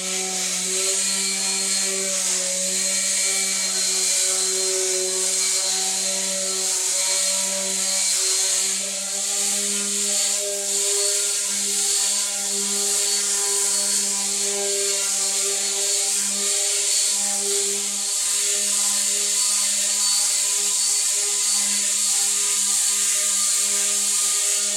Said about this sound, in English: We've got some 60 grit on our sander here.